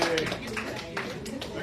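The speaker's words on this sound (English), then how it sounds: "Everybody give yourself a round of applause." Faint audience applause at a cancer prevention health talk: a scattered patter of clapping, quiet and a little distant, mixed with a cheerful voice.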